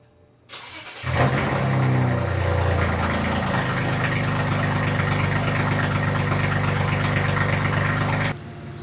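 Close engine noise from a BMW 335i, which starts with a rising roar and then runs at a steady, heavy idle for about seven seconds before it cuts out abruptly.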